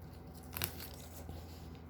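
A brief, soft ripping sound of adhesive tape being pulled loose from a zipper, with a quiet steady hum underneath.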